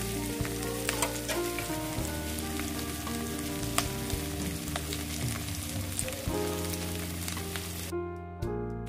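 Gravy chowmein sizzles steadily in a pan while being stirred, a continuous close frying hiss with occasional scraping clicks, and a steady hum beneath it that falls away near the end.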